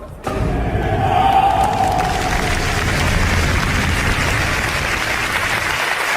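A live-show audience of about 700 people cheers and applauds, a dense, loud, steady roar of clapping and whoops that carries through the whole stretch.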